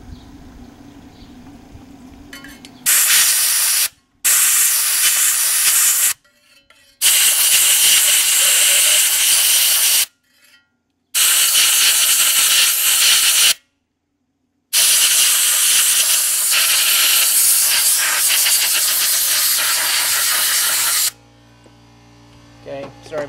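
Compressed air sprayed into a spark plug well to blow out debris, several loud hissing bursts of a few seconds each with short pauses between, close and continuous during each blast.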